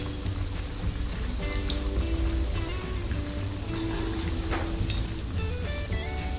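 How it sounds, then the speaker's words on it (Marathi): Corn pakoda deep-frying in hot oil over lowered heat, giving a steady dense sizzle and crackle throughout, close and fairly loud with no voices. "छान गुलाबी रंग येईपर्यंत तळायचे।"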